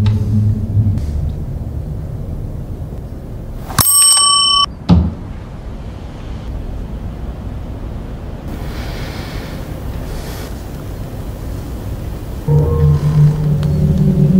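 A single ring of a small cursed bell, bright and brief, standing out partway through against a rushing, windy background.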